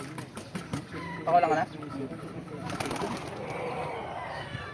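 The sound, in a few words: fighting birds at a bird fight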